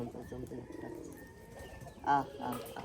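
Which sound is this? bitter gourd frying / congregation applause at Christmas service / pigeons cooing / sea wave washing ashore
pigeons cooing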